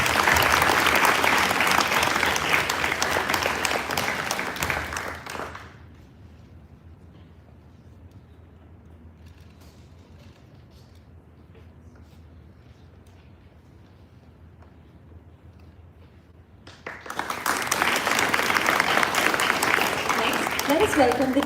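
A school audience at a sixth form leadership summit breaks into loud applause that stops abruptly, leaving a long quiet stretch of faint room noise, before another burst of dense clapping starts up.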